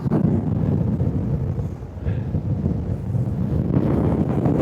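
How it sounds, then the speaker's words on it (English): Steady wind roars across an open coastal headland at Whitesands Bay near St David's Head in Pembrokeshire, Wales, a loud continuous low rumble buffeting the microphone throughout with no talk. "You can hear me over this wind"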